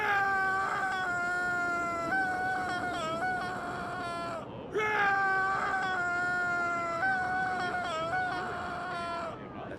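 A sustained shrieking voice in Hitman gives two long, wavering wails that resemble a caterwauling cat, with a brief break between them and clear harmonic tone.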